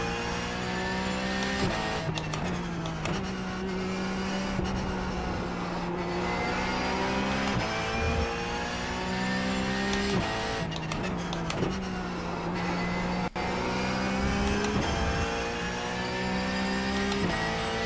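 Porsche Cup race car in iRacing at Monza, its engine droning steadily at high revs with shifting pitch and brief gear-change dips, loud and continuous with no talking.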